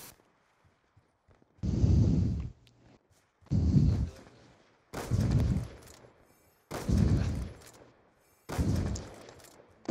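Five separate muffled bursts of gunfire from the video game Black Ops 2, each lasting under a second and spaced evenly apart, with near silence between them.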